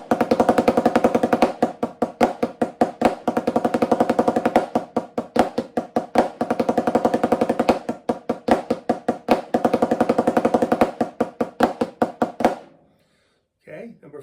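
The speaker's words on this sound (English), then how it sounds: "Number 3 adds some paradiddles to what we were doing here." A snare drum 15-stroke roll exercise mixed with paradiddles: dense, rapid stick strokes and buzzing rolls in repeating phrases with brief breaks, ending abruptly; a faint voice follows at the end.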